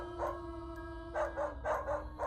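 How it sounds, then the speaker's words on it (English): A pack of dogs howling and barking outdoors at night, with a long sustained howl running beneath several louder bursts of barking that come in short clusters toward the end, at a moderate distance. "It sounded like a pack of dogs barking and howling."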